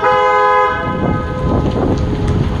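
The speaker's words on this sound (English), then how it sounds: "Honk twice so that way people know you're coming out." A loud, steady car horn blast sounds at the start, followed by rumbling vehicle and outdoor noise at a drive-through coffee shop.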